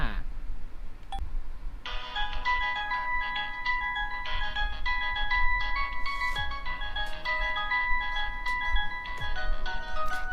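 A melodic electronic alarm ringtone from a budget mobile phone for older users plays a repeating chime-like tune, loud and close, over a low background hum, with a faint voice at the start.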